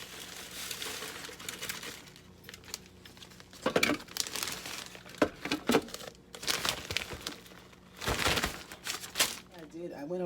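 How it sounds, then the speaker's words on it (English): A plastic bag is handled and crinkled in a kitchen while making a crumble topping, producing bursts of crisp rustling and crackling, some loud and close, separated by quieter pauses. "Put this in a plastic bag that I'm ready for it."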